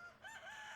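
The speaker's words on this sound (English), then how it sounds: "Oh, I heard the rooster." A rooster crows in a video game, a single faint, drawn-out call with rising and falling pitch.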